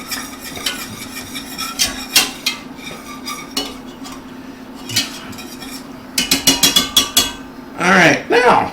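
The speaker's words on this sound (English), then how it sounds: "let's go ahead and whisk this." A whisk clinks and scrapes against a bowl in a home kitchen while making spaghetti sauce, with scattered taps at first, then a quick run of rhythmic metallic strokes, a steady background hum throughout and a short vocal sound near the end.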